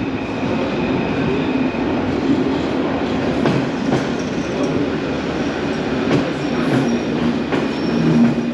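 A Paris Metro Line 2 train at Nation station gives a steady, loud rumble with faint wheel squeal and a few sharp rail clicks and knocks spaced through the run, with no voices.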